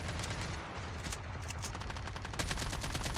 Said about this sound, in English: saving my light ammo by using my AK-47